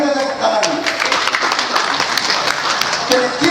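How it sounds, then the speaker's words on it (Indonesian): Wedding guests applaud together, a dense burst of clapping that runs under a voice speaking over it and continuing through the whole stretch. "Mari kita tepuk tangan."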